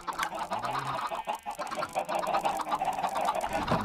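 Chickens in a video game, a busy run of clucks and squawks with rising and falling calls, fairly close and continuous.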